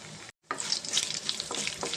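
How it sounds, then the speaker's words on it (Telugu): Chana dal, cumin, mustard seeds and dried chillies sizzle in hot oil after a brief silent gap, with a steady crackle and a few sharper pops up close. "ఇవి కొంచెం ఫ్రై అవ్వాలండి"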